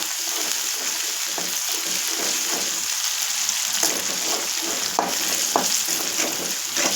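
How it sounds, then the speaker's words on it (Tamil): Ginger garlic paste, freshly pounded, frying in hot oil, giving a steady close crackling sizzle with scattered sharp pops and spits, no voices. "இஞ்சி பூண்டு பேஸ்ட்டு போட்டுக்கலாம்."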